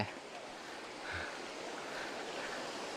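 Steady broadband rushing of Sap Phlu waterfall, flowing over lava rock columns in Phetchabun, Thailand, a constant roar with slight swells, nearby and continuous.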